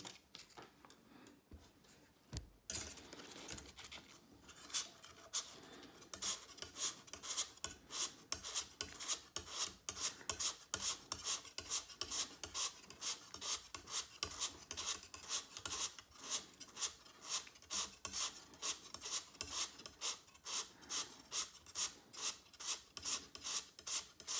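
Carbon fishing rod quiver tips, replacements for an older Abu rod, being sanded down by hand: quick steady back-and-forth rasping strokes, close and continuous, after a brief quieter start.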